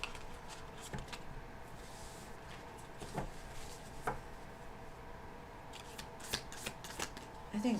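A Moonology oracle card deck is shuffled during a tarot reading, with soft, crisp card riffles and flicks coming in scattered bursts, fairly faint and close, in an otherwise quiet room.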